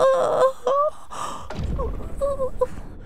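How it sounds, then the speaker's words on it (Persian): A performer in a Persian-language radio drama of The Little Prince yawns aloud: a drawn-out, voiced, breathy exhale that rises and falls, preceded by brief vocal sounds, close and clear with no other background. "خمیازه کشیدن در محضر پادشاه از نزاکت به دوره"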